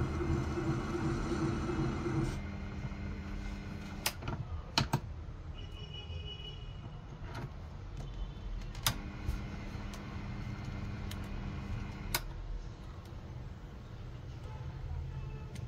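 A Proxxon mini lathe parting 304 stainless steel, a steady low motor hum with a faint grinding cut and scattered sharp clicks and ticks from the tool, close and fairly quiet.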